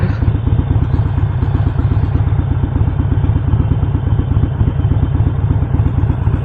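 A sport motorcycle engine idles steadily nearby on a Sunday morning ride in Kuta, Lombok, with a loud, even, rapid low thumping pulse and mechanical clatter running throughout.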